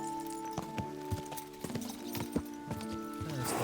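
Horse hooves clip-clop at a steady trot in Kingdom Come: Deliverance II, a regular rhythm of moderately loud hoofbeats over a faint ambient bed, with a brief whinny-like sound at the end.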